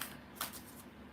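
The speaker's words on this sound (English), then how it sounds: "See if I remember how to shuffle cards," Playing cards riffle and snap together in a brief, quiet shuffle up close, one crisp burst standing out over faint room hum.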